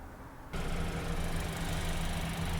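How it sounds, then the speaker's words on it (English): A Hyundai Sonata engine starts and settles into a steady, loud idle with a low rumbling hum, alone with no talking. "we got the engine running"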